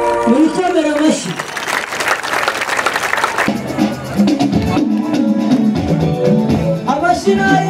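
Congregation clapping hands during a Rwandan gospel worship gathering, a dense burst of applause rising over singing voices and instruments, then rhythmic claps continuing under the music and voices.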